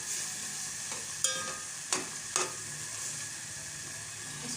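Carrot halwa cooking in a pan with cardamom powder stirred in, a quiet steady sizzle and hiss with three faint knocks of the spoon against the pan, no voices.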